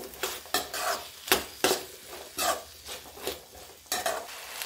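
Spoon stirring ground spices into khichdi in a pot, about ten quick scraping strokes in an uneven rhythm, close and fairly quiet, with no voices.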